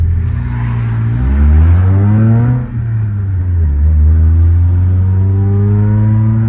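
A 125-horsepower BMW E30 accelerates at full throttle from inside the car, its engine note climbing loud and steady, dropping briefly at a gear change, then rising again as a strong, close drone.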